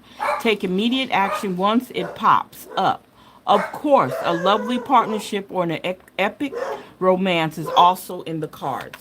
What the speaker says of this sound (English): excuse my dog from barking.